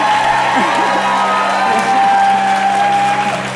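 A standing ovation at a political conversation event with Nancy Pelosi, a large audience clapping steadily with scattered cheers and whoops, loud and continuous throughout.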